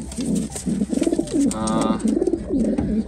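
Pigeons coo repeatedly at close range in a loft where young squabs are being raised, with a steady rhythm of soft, throaty, rolling calls and no talking.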